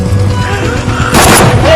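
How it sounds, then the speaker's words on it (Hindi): Gun fired indoors in a Hindi film scene: a single loud, sharp report bursts in after a stretch of low background murmur and then rings on briefly, close and dominant. "ये साली गन्स, अब कितनी गोलियां पड़ती होंगी हैं? चला के देखें हैं?"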